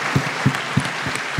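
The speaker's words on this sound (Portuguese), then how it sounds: "Vamos aplaudir, porque é uma Amém." An audience at a church panel discussion claps, with a steady wash of applause carried by a strong, regular beat of clapping roughly three times a second.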